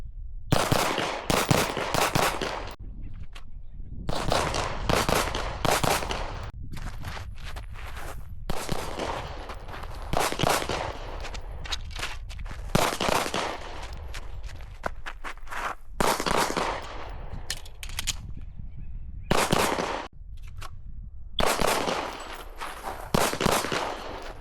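Rapid series of sharp pistol shots from a Glock 45 fitted with an XR920 sight, fired in quick strings with brief pauses between bursts, loud and close.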